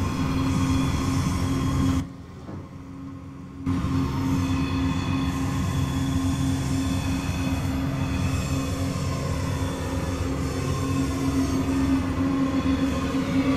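A London Midland train running in the Train Simulator 2013 game, with a steady loud rumble and hum of wheels on rails and a brief dip in the noise early on, continuous with no talking.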